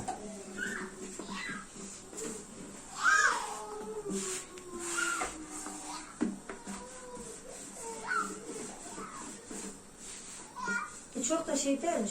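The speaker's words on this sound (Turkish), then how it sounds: "Büyük kedi geldi." A cat meows several times at a moderate distance while people talk and a voice chatters nearby.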